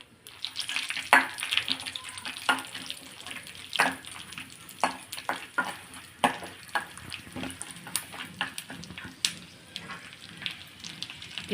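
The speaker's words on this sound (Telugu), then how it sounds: "పెసరపప్పు ఉడికే లోపల మనం డ్రై ఫ్రూట్స్ వేయించుకుందామండి." Chopped almonds, cashews and other dry fruits fry in ghee, with a soft sizzle broken by frequent crisp clicks and scrapes from stirring, close up and without speech.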